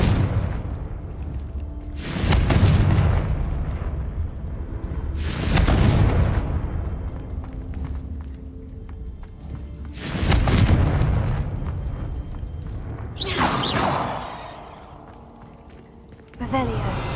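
Confringo spell explosions in Hogwarts Legacy: four deep, booming blasts land a few seconds apart, each swelling loudly and then fading into a rumbling tail, with a voice heard alongside.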